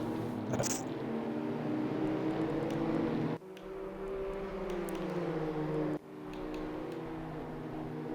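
Race cars in a racing sim at Zandvoort, engines droning loud and near with rising and falling revs, cut by two abrupt gear shifts, no talk over them.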